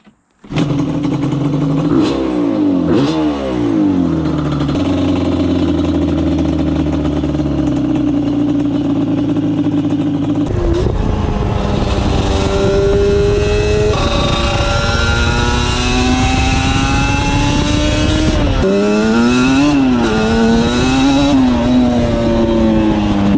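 A Yamaha Banshee motorcycle engine revs repeatedly, loud and close, rising and falling in sharp blips with a sustained high-revving stretch in the middle.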